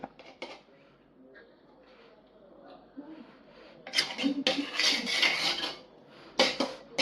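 Masala for a 1 kg chicken biryani being stirred in a pot, quiet at first and then a run of scraping, rasping utensil strokes against the metal, with clinks near the end.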